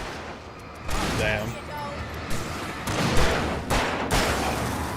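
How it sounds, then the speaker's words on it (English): Gunshots from Sarah firing a weapon in the video game Alan Wake Remastered, a few sharp bursts at about one, three and four seconds over steady game ambience, with a voice speaking briefly. "I think that was Sarah shooting him"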